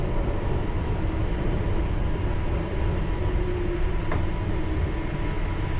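Constant loud rumble and roar of a London Underground Piccadilly Line train running on the track during engineering works, with a few faint clicks near the end.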